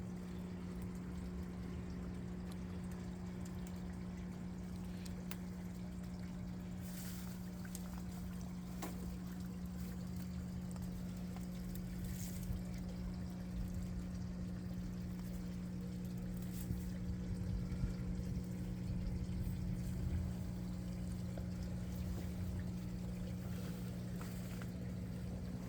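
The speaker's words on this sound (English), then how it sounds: "There it goes. Pumping that water back in." A steady low hum of an aquaponics pump moving water back into flood-and-drain growbeds, with water rushing and trickling, continuous and fairly loud throughout.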